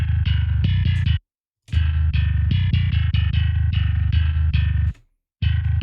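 A synth bass line from the Circvit Bass plugin plays in a distorted, effects-heavy tone, loud and alone, with short stops between repeated phrases.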